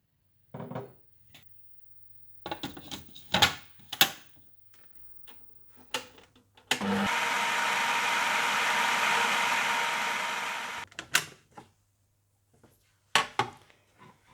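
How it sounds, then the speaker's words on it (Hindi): Dry vermicelli mixed with melted butter being crushed into crumbs for kunafa, a steady grinding rustle of about four seconds between scattered crunchy handling clicks and knocks, fairly close. "इसी तरह से बाकी सेवइयों में भी मेल्टेड मक्खन मिलाकर आप इसी तरह से चूरा कर लीजिएगा"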